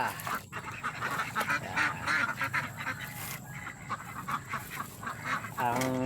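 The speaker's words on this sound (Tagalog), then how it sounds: "ito na itik natin mga itik" Pet ducks quacking nearby, repeated nasal quacks from several birds overlapping in an irregular chorus, close and fairly loud.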